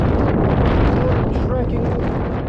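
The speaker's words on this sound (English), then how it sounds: "It's absolutely screaming with wind." Strong wind roars steadily across a microphone, a dense constant blast with gusting buffeting, as thick dust blows on a road trek between Basra and Baghdad in Iraq; no clear talk, just continuous loud wind noise.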